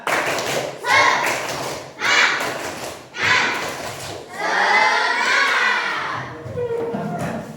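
A classroom of children does a counted spirit clap: three short separate bursts of clapping, then a longer, louder final round with the kids shouting along, fairly close and lively.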